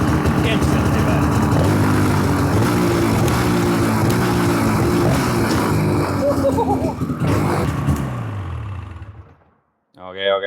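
A Polaris Indy 600 snowmobile engine with fresh spark plugs runs loud and close at a steady buzzing two-stroke idle, with a few revs partway through. It then cuts out into silence and briefly fires up again at the end.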